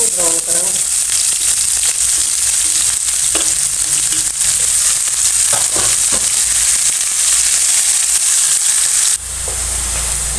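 Onions sizzle loudly in a hot pan, browning for an aloo palak dish, a dense, constant frying hiss broken by scraping stirs and a brief voice early on.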